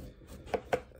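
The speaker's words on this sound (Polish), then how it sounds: "Dlaczego akurat tak kroimy te ziemniaki?" A small Fallkniven P knife with a VG10 steel blade chops potatoes into quarters, two crisp, close knife strikes against a cutting board in a quiet kitchen.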